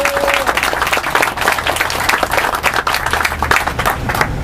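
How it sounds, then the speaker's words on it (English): An indoor audience at a Tea Party meeting claps in a dense, loud round of applause that holds steady for several seconds. "let's give a round of applause for the people that just showed up this for the first time"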